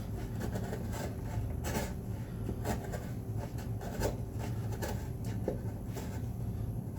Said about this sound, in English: I'm registering the chisel on the back, and I'm just kind of making